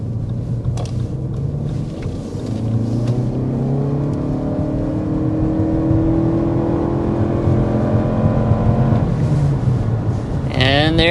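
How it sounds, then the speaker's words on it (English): A 2025 Lexus UX 300h hybrid under hard acceleration, its engine note climbing steadily in pitch and loudness through several rising harmonic sweeps, close and continuous with a brief sharp noise at the end. "let's go ahead and start with a hard acceleration"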